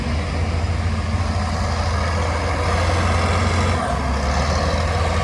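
A motor grader's heavy diesel engine rumbles steadily as it pushes and levels fill for concrete at a construction site in Chapala Centro, loud and continuous with a slight shift near the end.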